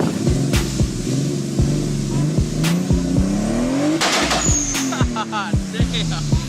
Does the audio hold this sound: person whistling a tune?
no